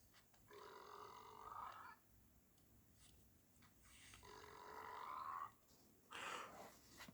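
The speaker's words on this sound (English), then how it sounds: "And the first emote, it is a burp." A cartoonish burp emote from a Fortnite sidekick in the video game plays as two long, gurgling, belching bursts separated by a short gap, each loud and close with a rough, croaky texture.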